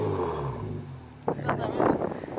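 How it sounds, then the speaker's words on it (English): A Kia Stinger GT with twin turbos idles and then revs in short bursts, its engine note rising under people talking nearby. "You gonna hear my turbos"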